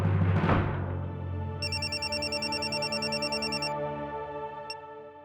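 An electronic telephone rings in a Hindi TV drama scene, a loud repeating warble lasting about two seconds, layered over a swell of music.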